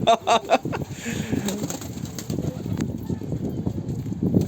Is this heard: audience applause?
no